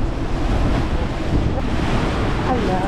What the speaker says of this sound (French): Ah la houle, hein!